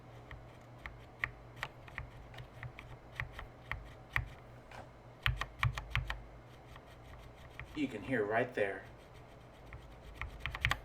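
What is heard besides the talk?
mechanical keyboard switch keypresses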